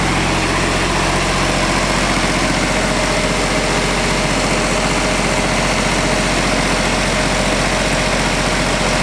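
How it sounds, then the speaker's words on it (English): Kubota diesel engine idling with a steady, deep, vibrating drone, close and constant for the whole stretch, no speech over it. "So, I've got the Kubota going."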